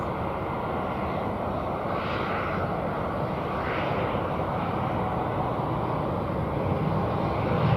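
Loud, continuous engine roar from an American Airlines flight 665 airliner at DFW Airport, with a whining tone that wavers in pulses and swells slightly toward the end, no talking.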